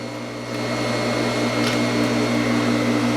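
A sewing machine stitches the shoulder seams of a basic knit blouse with a steady, loud motor hum and whir that starts shortly after the beginning and runs without pause. No one talks.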